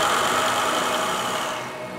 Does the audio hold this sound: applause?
no